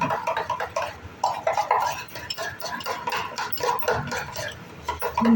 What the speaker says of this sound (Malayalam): ഇത് നന്നായിട്ട് മിക്സ് ചെയ്യുക